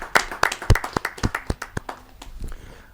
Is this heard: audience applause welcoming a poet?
yes